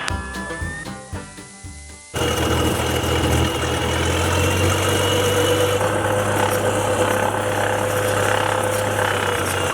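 A Cessna Skylane light aircraft taxiing after landing, its piston engine droning steadily and loudly with a low rumble and vibration, following a brief burst of other sounds at the start.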